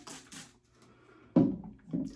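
Water spritzed from a handheld spray bottle onto a shaggy golden-blonde wig, heard as two close, short hissing bursts, the second a little softer, with quiet pumping sounds before them.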